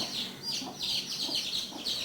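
Chickens cluck and squawk repeatedly in a busy, continuous stream, fairly close, with no talking.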